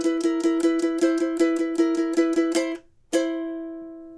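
Ukulele picking a theme for a kids' Halloween lesson: a rapid run of repeated plucked notes, a short pause, then one final note left to ring out, close and clear with no talking.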